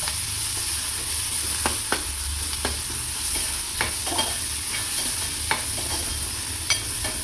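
Chopped coriander leaves, onion and radish frying in oil for a village-style horse gram palya, a steady soft sizzle with intermittent sharp stirring scrapes and clicks, close and unaccompanied by speech.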